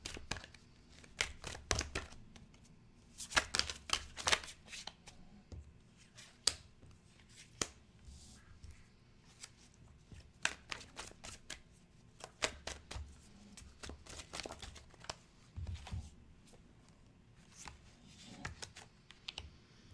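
Tarot cards shuffled and handled close up, irregular bursts of rapid riffling and flicking separated by brief quiet gaps, fairly soft but crisp.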